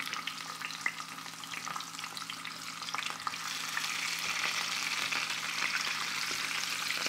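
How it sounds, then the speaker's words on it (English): Crappie, bluegill and perch fry in hot oil in a pan, a steady crackling sizzle dotted with sharp pops that grows a little louder and denser partway through. "we place our fish in the pan."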